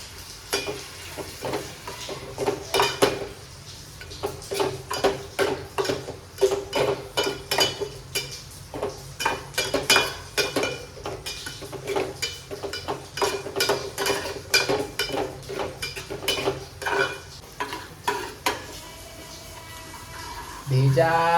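Liver sizzles in a cooking pot while a utensil stirs and scrapes it in steady, rhythmic strokes, close and fairly loud, with frying hiss underneath throughout.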